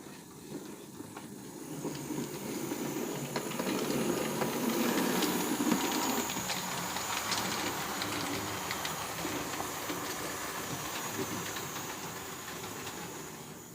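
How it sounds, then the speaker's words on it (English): Two M7 steam locomotives depart with a train toward Wickham, a steady rumbling roar of exhaust and rolling wagons building and holding at moderate loudness throughout, with hiss but no speech. "we've got the signal up and the 2 M7s are off"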